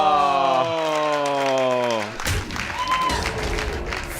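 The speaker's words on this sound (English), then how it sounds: "Really clapping for that Huffer." Audience applause at a Hearthstone event swells after a stretch of loud music and announcer talk, a dense crowd of clapping that carries on steadily to the end.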